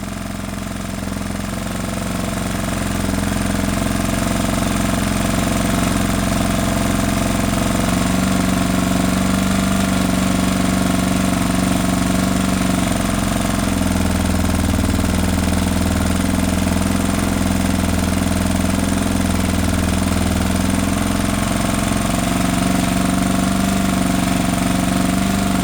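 A 1979 Honda XR500 single-cylinder motorcycle with major engine damage and a smoking header pipe idles high and steady, a continuous loud, close thrum with an even, unchanging pitch throughout.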